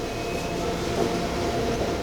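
A Seoul subway Line 2 train running, a steady loud rumble and roar from inside the moving carriage with a faint high whine, continuous and unbroken throughout.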